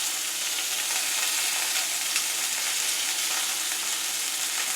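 Thin haddock fillets fry skin side down in a hot pan, giving a loud, steady, close sizzle and crackle that runs throughout with no talking.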